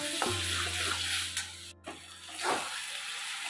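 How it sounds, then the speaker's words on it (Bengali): Spice paste for chicken curry sizzles quietly in a pan while a utensil scrapes and stirs it in short strokes, with a low steady hum underneath. "ভালো করে মশলাটাকে কষে নেব।"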